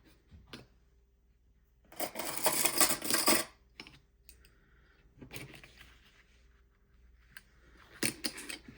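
Scissors cutting card stock for a junk journal cover, in a few bursts of crisp snipping and rustling, the longest near the start and a shorter burst at the end, close up with no talking.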